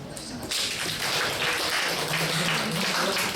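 A church young adults' service audience claps for a youth small group, a steady dense patter starting abruptly after a brief lull and holding at an even level with some murmuring underneath.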